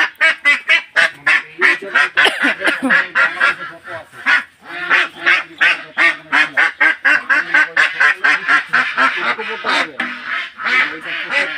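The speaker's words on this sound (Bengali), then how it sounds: "আমার কাকু দুটা হাঁস নিয়ে আছে।" Ducks held for slaughter at a wedding-house gathering quack loudly and repeatedly in rapid, continuous bursts close by, with no speech over them.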